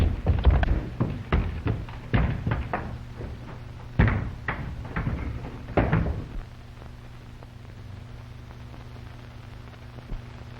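Knocks, thuds and rattling of a door being tried upstairs in a 1930s mystery-suspense film setting, a cluster of sharp bangs in the first six seconds, then quiet hum.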